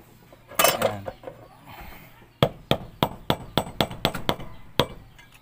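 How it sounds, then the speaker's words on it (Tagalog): A rustle of handling, then a run of sharp metallic strikes, about a dozen hammer blows at a brisk, slightly uneven pace, close by, while repairing an electric fan. "tirayan na lang yan ng martilyo"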